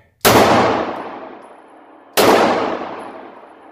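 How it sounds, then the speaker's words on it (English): Two sharp, loud pistol shots from a Ruger LC9 at an outdoor shooting range, about two seconds apart, each with a long fading echo tail and nothing else in between. "We'll shoot some more here."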